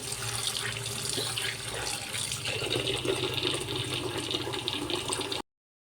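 Continuous running water splashes and swishes over peanuts being washed, steady and close, with a faint low hum underneath, then cuts off.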